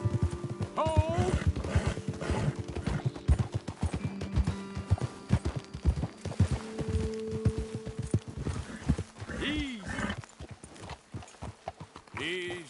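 Horse hooves clatter in a rapid, steady gallop in Red Dead Redemption, loud and close, with a horse whinnying briefly and voices calling out over the hoofbeats.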